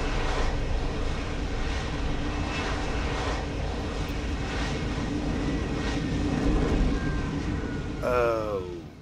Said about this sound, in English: That is a really sweet helicopter.